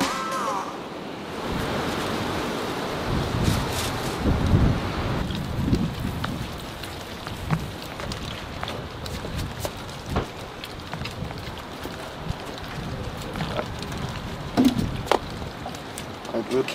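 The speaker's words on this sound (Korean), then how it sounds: "갑자기 강한 바람이 불더니 화분에 물을 주니 비가 내리기 시작했다" Strong wind gusts and rain fall over outdoor garden pots freshly planted with perilla and red lettuce seeds, a steady broadband rush with scattered drop taps and louder bursts, under faint talk.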